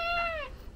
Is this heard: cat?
yes